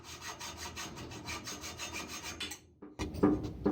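A hand saw cuts conduit pipe in quick, rhythmic strokes, scraping up close. The strokes stop briefly and then give way to a few louder knocks as the cut finishes.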